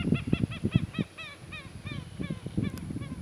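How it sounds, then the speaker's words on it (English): Geese honk loudly and close outdoors in nature, a rapid run of harsh honks followed by slower, scattered calls with short pauses between. "All I hear is birds and pretty much birds and some weird noises"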